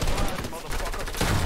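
Rapid gunfire crackles in the Fortnite video game, a dense continuous barrage of shots filling the whole moment at close range.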